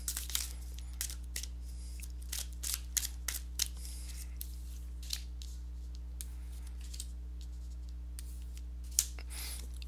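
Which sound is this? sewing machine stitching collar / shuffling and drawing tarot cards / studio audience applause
shuffling and drawing tarot cards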